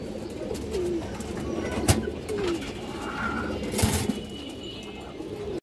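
A female Kalibaga pigeon of the Harami line coos in low, soft, repeated calls, fairly close, against a steady murmur of background noise with no talking.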